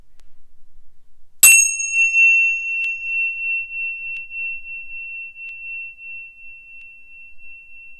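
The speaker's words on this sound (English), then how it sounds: "when I ding my bell" A small yoga bell is struck once, giving a bright, clear ding that rings on as a long, pure tone and fades slowly over several seconds in a quiet room.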